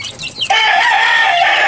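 Young hens (pullets) in a backyard flock give a loud, close, sustained high call after a short softer stretch, with no talk.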